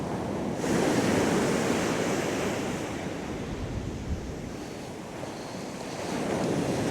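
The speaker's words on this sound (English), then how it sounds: "Some big ass waves over the back there." Big sea waves breaking on a snowy winter beach near Ness Point on the UK east coast at -5°C. A continuous loud surf roar swells and eases, mixed with gusty wind buffeting the microphone.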